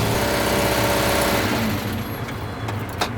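A new BMW running on paint in place of engine oil idles loudly and close by with a rough, steady drone. The engine note drops partway through and ends with a few faint clicks.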